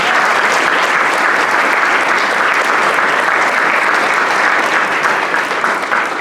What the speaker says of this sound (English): You can clap for Obi.